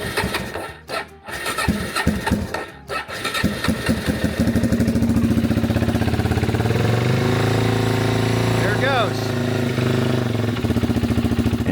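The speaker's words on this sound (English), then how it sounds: "I was able to get it to start" A motorcycle engine cranks over and catches, then settles into a steady, close, loud idle with a continuous low rumble, starting rough and evening out.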